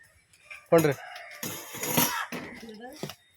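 A rooster crows in several drawn-out, strained phrases, fairly close, with brief pauses between bursts.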